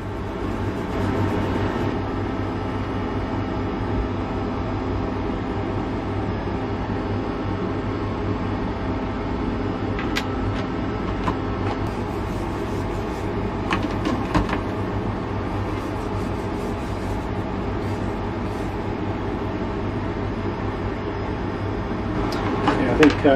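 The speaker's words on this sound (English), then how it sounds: "Sorry about the noise, by the way, in the background. I've got an aircon unit on" An air conditioning unit drones with a constant low mechanical hum in the background throughout, with occasional clicks and knocks, while a person talks over it.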